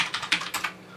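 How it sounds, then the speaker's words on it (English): Quick, crisp mechanical keyboard clicks from a Cooler Master keyboard, about six keystrokes in an uneven burst, close up, then the typing stops. "if I type something here"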